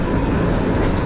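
The Rupsha Express pulls into Kotchandpur railway station with a steady, dense rumble and roar of rolling wheels and carriages, loud and continuous throughout the brief moment.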